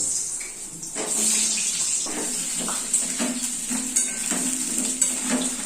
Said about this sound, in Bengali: ততক্ষণ আমি আলুটা একটু ভেজে নেবো